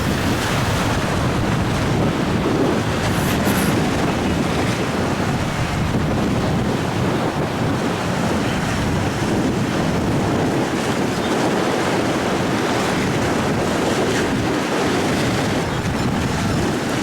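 Ocean waves wash steadily along the Manila Bay sea front, a loud continuous roar of surf mixed with heavy wind buffeting the microphone and no voices.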